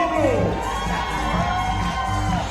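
A crowd cheers and shouts loudly and steadily at the 2019 World Archery Para Championships final in Den Bosch, a close, continuous roar of voices with whoops.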